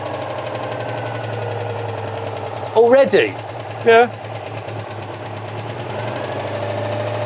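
A small car engine, just off choke, idles with a steady low rumble throughout, while two people exchange a few brief words near the middle.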